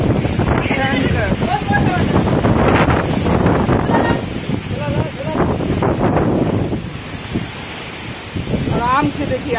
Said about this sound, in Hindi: देखिए कैसा भयंकर तूफान आ गया